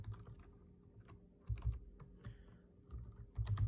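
Computer keyboard keys are tapped in short, irregular bursts with pauses between them, faint and close, in the Nickelodeon Toon Twister 3-D video game.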